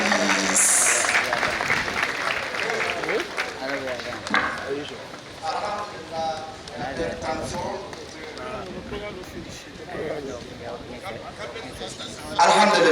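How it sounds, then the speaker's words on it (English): A crowd at a national Muslim conference at the National Mosque of Ghana applauds loudly, with dense clapping that fades and swells again. Voices talk over it, and an announcer speaks through the middle. "Oh, let's give him another round of applause, please."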